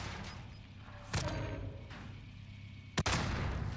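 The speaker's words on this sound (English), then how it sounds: "Enemies throwing nades at us." Grenade explosions in Call of Duty Warzone: two heavy blasts, a longer booming one followed a couple of seconds later by a sharp, loud crack, both over a steady rumble of in-game background noise.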